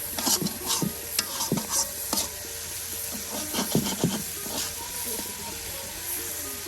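Chicken pieces coated in ground spice paste sizzle and fry in a village-style pan, with repeated scraping stirs clustered through the sound; a faint voice talks now and then over the steady hiss.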